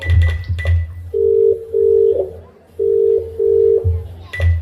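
A telephone ringing tone of an unanswered call sounds in paired electronic beeps over the line, steady and clear, with brief voices at the start and end.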